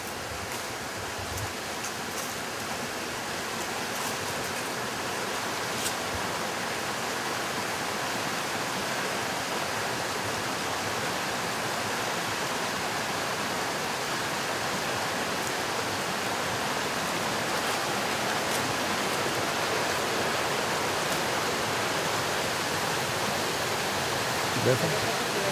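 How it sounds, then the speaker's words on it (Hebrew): A natural waterfall flowing toward a lake roars in a steady, dense wash of rushing water that fills the whole stretch without pause, close and loud. "מפל הזה?"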